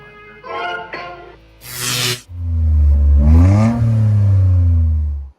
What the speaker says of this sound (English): We got to hit you with some engine noise as well.